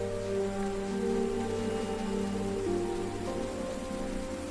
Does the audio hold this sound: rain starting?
yes